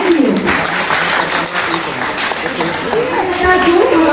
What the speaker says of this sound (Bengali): Please give a big round of clap for him. এটা জোরে হাততালি হোক স্যারের জন্য।